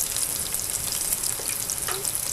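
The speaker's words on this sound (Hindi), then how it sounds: "अब इनको मैं अच्छे से फ्राई कर लूँगी।" Chicken pieces fry in hot oil, a loud, continuous close-up sizzle and crackle that fills the whole moment with no voices.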